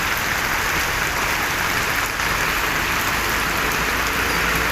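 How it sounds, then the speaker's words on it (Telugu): Heavy rain falling near a hotel, a dense, constant broadband hiss of downpour with no breaks, loud and close throughout, with nothing else standing out. "బాబా బాబా ఫుల్ వర్షం, నీళ్ళు వచ్చేసినాయి హోటల్ దగ్గరికి"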